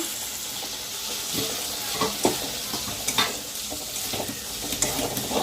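Potatoes and peas sizzle gently in a pan while a spoon scrapes and stirs them in irregular strokes, with a steady frying hiss underneath.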